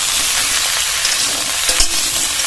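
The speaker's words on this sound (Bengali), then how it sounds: "এবার গ্যাসের ফ্লেমটা হাইতে রেখে 2-3 মিনিট ভেজে নেব।" Ridge gourd and potato frying on a gas stove at high flame, a loud continuous sizzle with stirring scrapes and a couple of sharp utensil knocks near the end.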